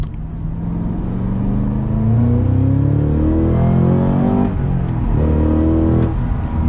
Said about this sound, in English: you got a pretty monstrous V8. It sounds good too.